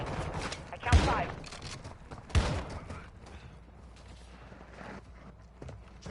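Two sharp, loud gunshot bursts ring out amid fainter scattered shots in Call of Duty: Modern Warfare II, over a quiet background with occasional voices.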